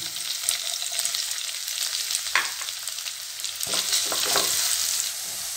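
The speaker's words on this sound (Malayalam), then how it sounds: "ഉള്ളി നമ്മുടെ നല്ലപോലെ വഴന്നു വന്നിരിക്കുന്നത്." Chopped onion sautéing in a pan with curry leaves and crushed spices, a continuous sizzle broken by repeated scraping stirs that grow busier toward the end, close and without talk.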